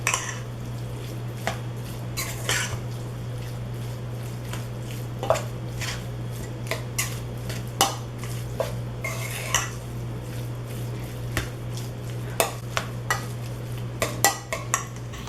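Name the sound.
mixing hot sausage meat mixture in a bowl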